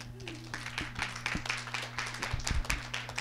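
An audience claps after a colloquium talk, steady scattered applause at moderate volume over a constant low electrical hum.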